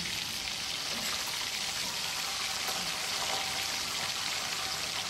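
Potatoes fry in leftover oil from cooking fish, giving a dense, even, close sizzle that holds steady from start to finish with no voices.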